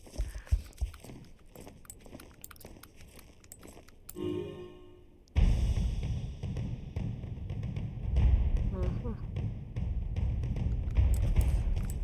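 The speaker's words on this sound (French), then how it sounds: "c'est le son de centaines de sabots qui viennent dans notre direction" In a video game, quiet tapping gives way to a sudden loud rumble of hundreds of horse hooves galloping closer, a thick, steady drumming that keeps building.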